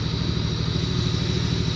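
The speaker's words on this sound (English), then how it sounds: "you're about to see some John Deere tractor power" A John Deere tractor engine, fitted with big fat wheels and pulling a rail blade on the Rascal Pro, runs steadily with a low, pulsing mechanical chug, close and continuous.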